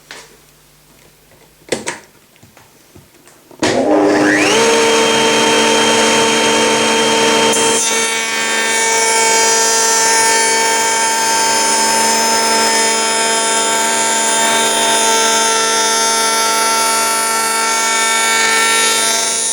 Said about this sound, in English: to do that we stand that on edge and run it past the router cutter